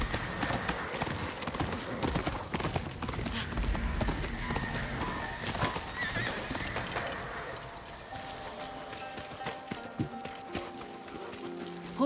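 Horse hooves galloping in the video game Ghost of Yōtei, a steady clip-clop rhythm that runs throughout, laid under game ambience and a faint voice.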